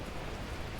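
Torrential rain in the video game Beacon Pines falls as a steady, soft, broadband hiss over a brief moment, fairly faint and without talk.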